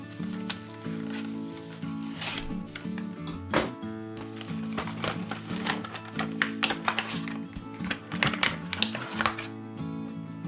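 A knife slices into knife packaging, making a string of tapping, scraping and crinkling cuts that come in irregular bursts, close and fairly quiet, over a steady low background hum.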